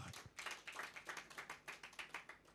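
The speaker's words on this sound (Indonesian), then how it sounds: "Tepuk tangan buat kemuliaan Tuhan" Congregation applauding during a church sermon, a steady run of quick rhythmic hand claps that stays faint and even, with no talking over it.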